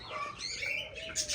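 Ringneck parrot chicks chirp in a thin, high, overlapping stream, fairly close and moderately loud, with a brief sharper burst near the end and no speech.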